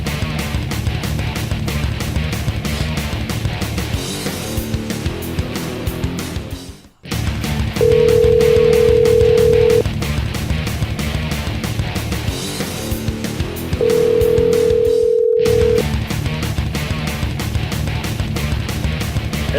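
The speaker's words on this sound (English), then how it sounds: "All right, let's see if we can get him on the phone." A telephone tone sounds as a call is placed, two sustained steady beeps heard over continuous loud music, close and clear.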